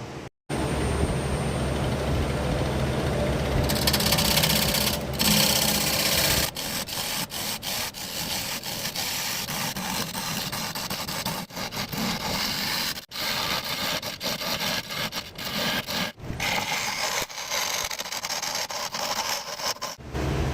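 A woodturning lathe hollows out a plywood bowl, giving a loud, continuous, close grinding rub of the tool against the spinning wood, with brief cuts and pauses along the way.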